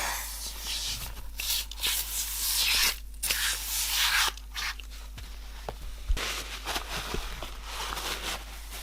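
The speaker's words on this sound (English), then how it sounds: "I'll just give them a quick spray." Interior cleaner is sprayed and wiped inside a pair of snake skin dress shoes, with bursts of hissing spray alternating with rubbing and scuffing handling noises close by, over a low steady hum.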